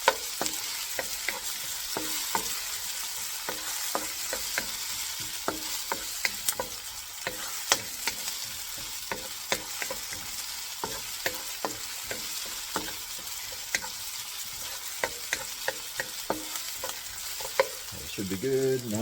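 Garlic stir-fries in the leftover oil of a wok for pork adobo, a steady sizzle broken by frequent sharp clicks and scrapes of the spatula against the metal.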